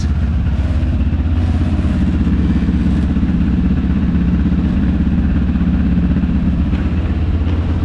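A motorcycle engine runs rough at idle close by, a loud, steady low rumble with an uneven, clattering throb and no voices.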